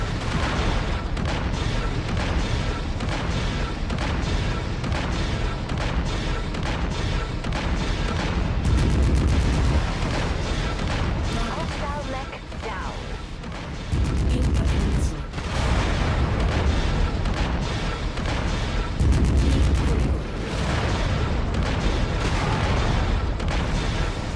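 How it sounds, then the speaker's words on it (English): Constant, dense MechWarrior 5: Mercenaries combat: laser bursts, ballistic weapon fire and booming missile explosions layered into a loud, unbroken roar, with periodic heavier blasts and a brief dip partway through. "it has awesome SFX for the actual lasers, the ballistic weapons, the missiles, the damage"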